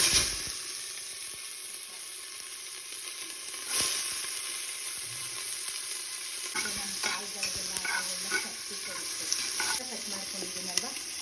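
Chopped onion frying in oil for tempering a mutton paya leg soup: a steady hiss at first, then louder sizzling with repeated scraping stir strokes in the pan, close and without talk.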